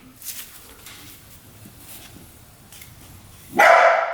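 A dog barks once, loudly and close by, in a short burst at the end after a stretch of quiet shop ambience beside a 400cc two-stroke dirt bike being worked on.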